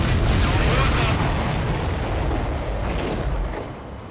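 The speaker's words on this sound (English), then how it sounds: "Did you see that explosion? Looks like that's one of them down." Explosions in the combat flight video game Ace Combat 7, a loud sustained roaring blast that rumbles and slowly fades, with rushing noise throughout.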